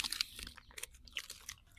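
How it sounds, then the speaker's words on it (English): Crunchy bites and chewing on wagon wheel biscuits, close and fairly quiet, with repeated short crisp crunches scattered across the moment and no talking. "Do you suppose the people listening to this can hear us chewing?"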